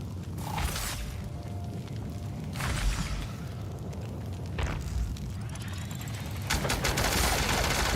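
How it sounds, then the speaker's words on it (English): Spectrum Gatling gun fire in The Outer Worlds, several sustained bursts of rapid shots over steady background game noise, with mechanical clanks between volleys. "we're going to bring out the Spectrum Gatling again, and hopefully this does what we need it to do"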